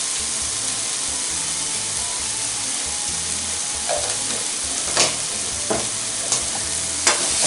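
Masala with amchur stirred in a pan over a high flame for bhindi masala, a steady sizzle and frying hiss with occasional scraping clicks from the spoon against the pan.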